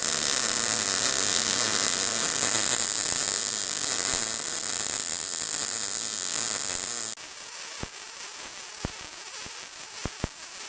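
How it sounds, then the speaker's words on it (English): Vertical uphill MIG welding with an SSimder SD 4050 Pro welder: a steady, loud crackling hiss of the arc runs for about seven seconds, then stops, leaving quiet background with a few sharp clicks. "one option is to do a vertical uphill welding"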